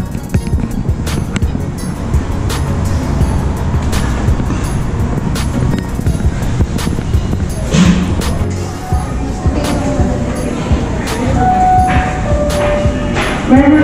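Steady rumbling of a PATH commuter train heading toward World Trade Center, with rattling and low mechanical drone throughout, occasional squeals and clanks, loud and close.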